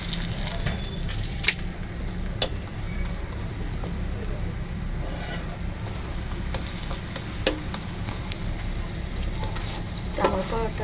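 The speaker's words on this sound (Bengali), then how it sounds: "এখন অল্প একটু তেল দিয়ে দিব, পরোটা হিসাবে ভাজিয়ে নিব" A paratha fries in a little oil, giving a steady crackling sizzle with occasional sharp pops and scraping stirs. A voice speaks now and then over the frying.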